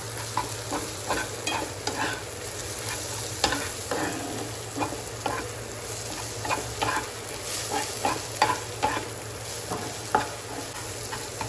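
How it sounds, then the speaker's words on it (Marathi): Crushed garlic frying in oil, with a steady sizzle and repeated scraping stir strokes close by, no voices over it. "लसून पण आपण चांगला तेलावर परतून घेऊया"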